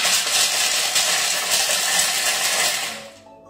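A Thermomix blade grinds nuts at speed 5, a loud, steady whirring roar with gritty rattling of nut pieces that holds for about three seconds and then cuts off abruptly, with no talking.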